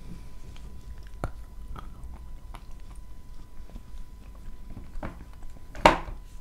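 Edible kaolin clay is bitten and chewed up close, with soft scattered crunches at irregular intervals and one sharper bite near the end, with no talk.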